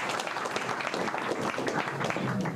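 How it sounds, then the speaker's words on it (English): Audience applause at a science park event, steady dense clapping filling the whole stretch, fairly loud and close, with no pauses. "a big hand of applause"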